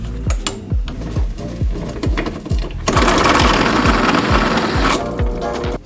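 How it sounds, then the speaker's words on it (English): Drill struggling to bore a hole in hardened steel while working on a classic Toyota overland truck, a rapid regular mechanical chattering that grows into a louder, harsher grinding whine midway. "I'm trying to drill my third hole, but for some reason the drill bits will not cut"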